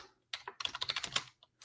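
Someone types on a computer keyboard in a burst of quick clicking keystrokes, close and fairly soft, with short pauses and no talking.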